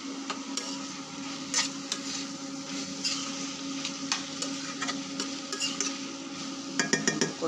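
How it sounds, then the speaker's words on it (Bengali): Dried fish and Malabar spinach sautéing in a pan, a steady soft sizzle broken by intermittent scraping and clinking strokes of a spatula, close and moderate in level. "ওটা অনেক সুন্দর করে কষতে থাকবো"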